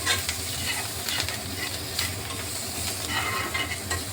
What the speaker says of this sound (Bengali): আদাটা আর লঙ্কাটা ভালোভাবে একটু কিছুক্ষণ ভেজে নিচ্ছি